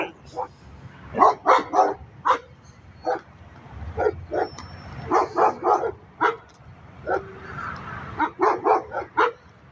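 Rescue dogs bark in repeated bursts, several sharp woofs in clusters with brief pauses between, fairly close and loud, with occasional whimpering yips mixed in.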